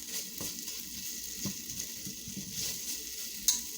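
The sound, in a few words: garlic cooking in a pan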